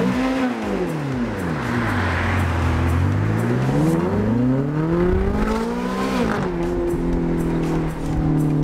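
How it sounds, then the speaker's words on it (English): A Ferrari engine revs repeatedly near a dealership, the pitch climbing and falling in loud sweeping blips, then settling into a steady idle toward the end. "I think we need some revs from the Ferrari dealer"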